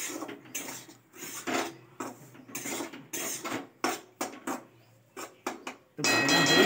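A kilogram of oil cake fries in ghee in a pan while being stirred, giving bursts of scraping and rasping with short pauses between, then a steady sizzle at the end.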